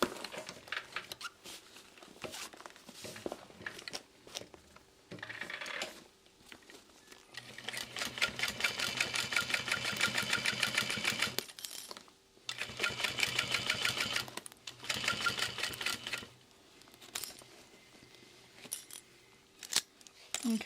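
A sewing machine runs in two long bursts, stitching a messenger bag in the round, with quieter handling, fabric shuffling and small clicks in the gaps between runs.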